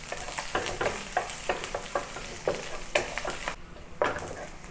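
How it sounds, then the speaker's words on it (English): Ginger and garlic sauté in hot oil in a pan for Cantonese steamed fish, with a steady sizzle broken by repeated stirring scrapes, close and fairly loud, no talking. "what I need is to heat some oil in the pan to saute the ginger and garlic"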